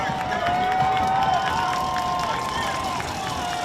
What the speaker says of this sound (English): Home crowd fired up, trying to give their boys one more defensive stop.